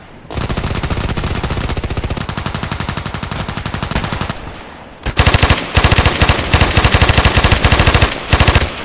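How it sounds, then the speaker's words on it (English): An AEK-971 rifle fires in Contract Wars: a loud, rapid full-auto stream of shots for several seconds, a short pause, then more bursts in quick succession. "Looks like in real war where you see the bullets flying around."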